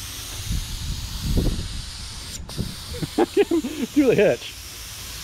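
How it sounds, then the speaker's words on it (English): A spray gun hisses steadily while it paints a minivan bumper near the hitch. The spray runs for the first half, then stops, and someone speaks briefly afterward. "let me get out of your other side so I don't get the overspray on you"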